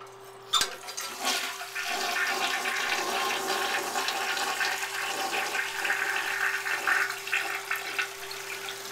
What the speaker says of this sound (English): Now it feels like I have to show this flushing